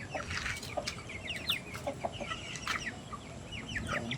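Rhode Island Red chickens cluck and chatter softly in a backyard flock, with overlapping calls throughout, at moderate distance, over a steady rural background.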